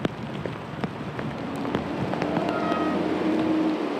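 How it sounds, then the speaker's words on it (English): Heavy rain pours steadily around cyclists on a bike trip through Idaho, a dense continuous hiss with scattered drop impacts that grows slightly louder toward the end, with no talk. "It's the first serious rain we've seen all trip."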